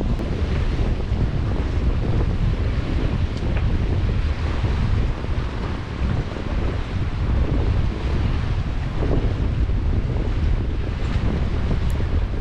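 Steady wind gusts buffet a Beneteau First 40.7 sailboat on open water off Southern Door County in a building breeze, a continuous rushing roar with wave wash underneath and no talk.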